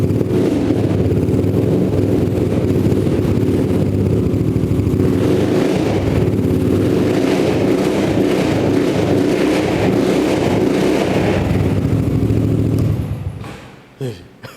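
A custom cafe racer built from a 250cc X-Max automatic scooter revs hard and steadily with a deep, throaty roar, loud and close, before cutting off near the end.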